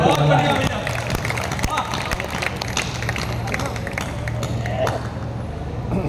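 Audience applause and crowd noise fill a Hindi poetry gathering (kavi sammelan), a steady dense wash of clapping close by with murmuring voices and a low hum running underneath.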